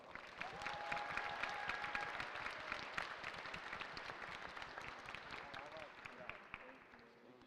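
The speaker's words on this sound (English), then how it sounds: "Give them a round of applause." Applause for a hackathon team at a university closing ceremony, a steady wash of clapping from a crowd lasting throughout, with faint voices mixed underneath.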